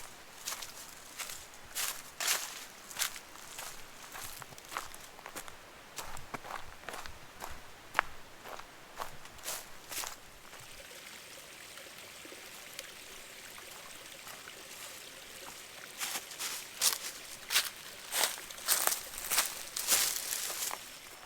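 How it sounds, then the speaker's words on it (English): Steady footsteps crunch along a hiking trail beside Caney Creek in Arkansas's Caney Creek Wilderness, with an even walking rhythm that pauses briefly midway before resuming, close and moderately loud over a faint wash of flowing water. "I turned and I'm hiking along Caney Creek"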